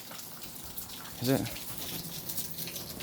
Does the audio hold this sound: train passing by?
no